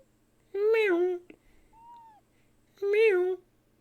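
A big cat meowing: two drawn-out, close, wavering meows separated by a pause, with a faint short tone in between.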